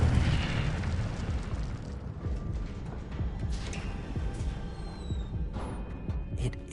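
An Incendio fire spell effect bursts out as a loud rushing, explosive roar that crackles and slowly thins out over several seconds, alone with no voices.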